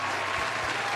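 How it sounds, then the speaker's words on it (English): A canned applause sound effect plays during a game development livestream, a steady wash of crowd clapping at moderate level with no voice over it. "You get your own applause for that"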